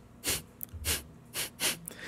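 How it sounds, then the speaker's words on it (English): A pet sniffs loudly in close, quick bursts, about five sharp snorting inhales spaced irregularly over a quiet room. "What are you sniffing over there for?"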